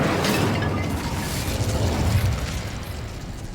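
The Incendio fire spell cast in the video game Hogwarts Legacy, a loud roaring burst of flame that whooshes out at once and then holds as a dense, rumbling blaze, fading slightly toward the end with no talk over it.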